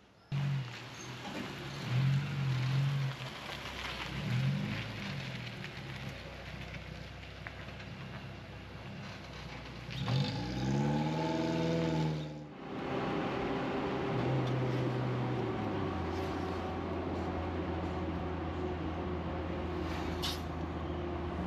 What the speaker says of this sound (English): So driving this 4x4 is about as different as I could get from the Tesla. As you can probably hear, it's pretty loud.